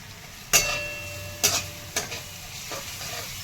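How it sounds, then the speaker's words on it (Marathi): Onion sautéing with spices, grated coconut, ginger and garlic in a pan for sambar: a quiet background sizzle with a few distinct scraping stir strokes of a spoon against the pan. "छान कांदा परतला थोडा"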